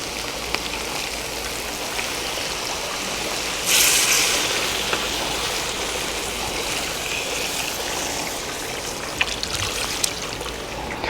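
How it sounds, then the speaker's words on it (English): Saffron-infused paella base liquid pours into a wide paella pan, a continuous trickling, streaming wash that swells briefly partway through, close and steady with no voices. "Now we're going to carefully pour in our paella base with the saffron in it."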